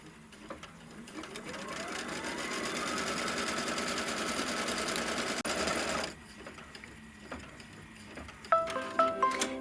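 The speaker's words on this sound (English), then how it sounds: "we're going to stitch off that first placement line for our" An embroidery machine stitches a placement line for quilt batting, its rapid needle hum running steadily for several seconds before stopping. Light clicks and taps follow.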